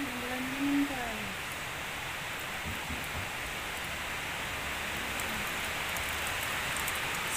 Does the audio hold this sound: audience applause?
no